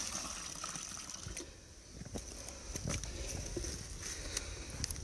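Water drawn from about ten metres down at a creek is poured into a container, a steady faint trickling and gushing that runs continuously over soft outdoor background noise, with no talking.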